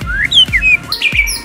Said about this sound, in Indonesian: Kali ini saya akan membahas yaitu tentang burung murai batu tipe dingin